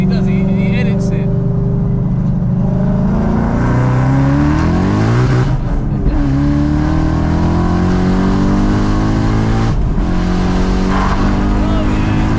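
A 1000bhp Ford Mustang known as ASBO accelerates hard on the road, its loud engine rising in pitch through several pulls with a brief break between, heard close and dominant, with voices in the car.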